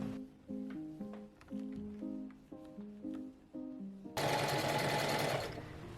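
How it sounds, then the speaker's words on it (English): Domestic sewing machine stitching darts on a top, several short whirring runs with brief pauses between, close and clear, then a louder broad rush of noise near the end, no talking. "I'm going to sew the armhole darts and press the darts towards the hem"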